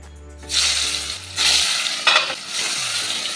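Boal fish pieces hit hot oil in a wok while cooking in mustard sauce, setting off a loud, close sizzle that surges in waves with stirring scrapes and then settles into a steady hiss.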